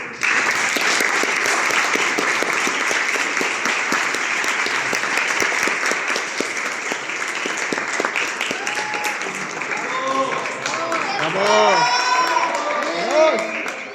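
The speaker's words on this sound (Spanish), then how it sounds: "le vamos a dar un muy fuerte aplauso a los participantes" Loud, sustained applause from an audience at a university oratory contest in Mexico, with scattered cheers and shouts rising near the end as voices come in over the clapping.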